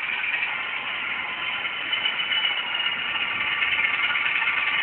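An NRE Genset model locomotive sound decoder runs its diesel engine at a steady, close idle, a constant droning hum with a slight swell partway through and no talking.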